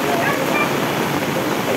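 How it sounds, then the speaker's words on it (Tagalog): Heavy rain pours down in a steady, loud broadband wash outside a house in the Philippines, continuous and close with no pauses, like a downpour drumming on surfaces. "sobrang lakas na talaga yung ulan"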